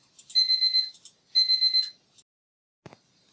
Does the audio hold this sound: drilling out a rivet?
no